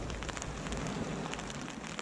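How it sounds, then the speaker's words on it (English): Rain falls steadily on a sandy beach at night, a dense, close hiss with soft irregular pattering of drops and no voices. "it's a nightmare filming in the rain on the beach, sand getting everywhere"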